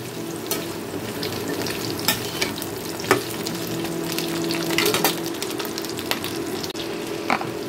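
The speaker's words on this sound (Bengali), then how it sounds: "এই ডাঁটাগুলোকেও আমি 2 মিনিটের মতো এই তেলের সাথে ভালো করে ভেজে নেব।" Drumstick (moringa) stalks fry in oil in a pan, giving a steady close sizzle broken by frequent scraping taps of a spatula stirring them, with no voices.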